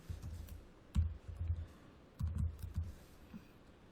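Someone types an IP address on a computer keyboard, with bursts of soft key clicks in two clusters separated by a pause, fairly quiet and close.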